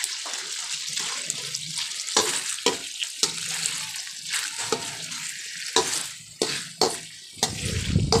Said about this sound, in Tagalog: Ayan, haluin lang po natin.